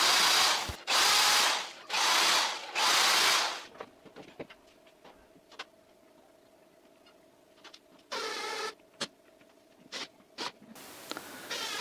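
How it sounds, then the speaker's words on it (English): Four short bursts of a power drill whirring into wood while building a cupboard, followed by scattered clicks and taps, then another brief burst of drilling later on. "Then I drill them and screw them."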